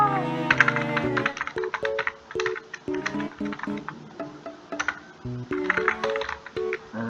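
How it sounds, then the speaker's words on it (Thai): Typing on a computer keyboard while playing Minecraft, rapid close clicks in quick bursts with short pauses, layered over steady background game music. "เราจะพิมพ์ตอบเขานะครับ"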